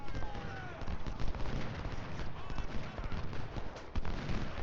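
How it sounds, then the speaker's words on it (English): Artillery fire in the Ultimate General: Civil War video game, a continuous rumbling barrage of booming shots and crackling blasts, fairly loud and dense throughout. "now I'm going to have artillery open up over here"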